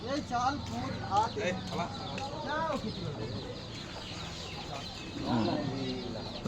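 Young turkeys clucking and gobbling nearby while people talk over them intermittently.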